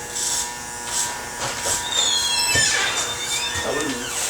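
Electric hair clippers with a 1/16 guard and open blade fade hair in a military high and tight cut, a steady close buzz with faint scraping strokes as the clipper moves over the head.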